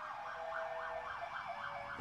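A police patrol car siren wails in a regular rising-and-falling sweep, moderately distant and fairly faint, repeating steadily through the short stretch with no talking over it.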